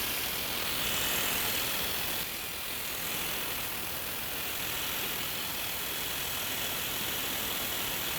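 A milling machine bores metal with its knee raised like a boring head, while compressed air blows steadily to cool the cutters. The result is a loud, continuous broadband hiss with a mechanical whir underneath.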